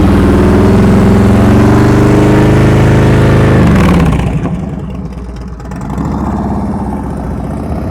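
A motorcycle engine revs hard as the rider accelerates out of a slow-speed turn during a practice session, a loud, close rising roar that cuts off sharply midway and drops to a lower, quieter running drone.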